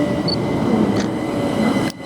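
Southern train running between Clapham Junction and London Victoria, a steady close rumble of wheels and carriage noise with a faint high whine, easing off abruptly near the end.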